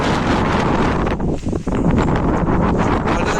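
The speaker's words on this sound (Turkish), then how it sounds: "eminim rüzgar sizi çok rahatsız ediyor" Strong outdoor wind buffets the microphone with a loud, continuous rumbling roar that briefly eases near the middle before gusting back at full force.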